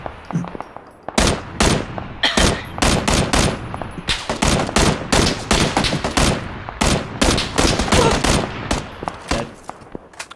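Rapid bursts of automatic gunfire in a shooter video game, loud and close, come in dense repeated volleys from about one second onward with hardly a pause.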